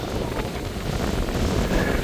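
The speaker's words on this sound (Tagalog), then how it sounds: "Sobrang hangin naman" Strong wind on a mountain top buffeting the microphone, a continuous loud roaring rumble throughout.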